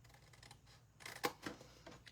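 Scissors snip slits into paper or card during a craft class, a few crisp cuts clustered in the middle, close and fairly loud against a quiet room.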